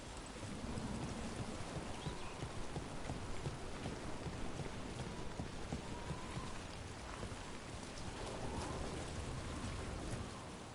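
Steady rain falls in a fantasy game world, a dense even hiss of drops on surfaces heard alone at moderate volume throughout.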